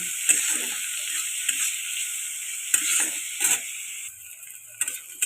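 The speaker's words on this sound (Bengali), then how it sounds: "তেল দিয়ে পেঁয়াজটাকে একটু লাল লাল করে ভেজে নেব" Onion sizzles in hot oil with a bright continuous hiss, broken by a few scraping stirs and clicks of a spatula; the frying noise drops lower toward the end, with no voices.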